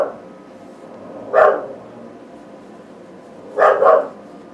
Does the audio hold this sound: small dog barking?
yes